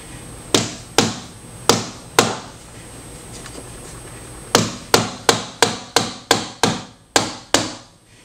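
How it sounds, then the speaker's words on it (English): An electric drill swung as a makeshift hammer taps model railroad track, sharp knocks coming in a few spaced pairs and then a quicker run of about ten evenly paced blows, close and crisp. "like using this electric drill for a hammer"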